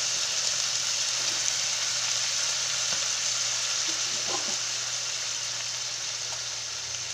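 Cabbage and pechay sizzle steadily in a small frying pan, a continuous bright hiss of vegetables cooking in hot oil, with a faint low hum underneath and no voices.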